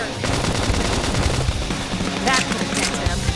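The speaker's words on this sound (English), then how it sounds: "Now, topple them with some gunfire." Sustained rapid gunfire from the video game Xenoblade X rattles loudly and continuously, a dense automatic barrage with brief sharper accents near the end.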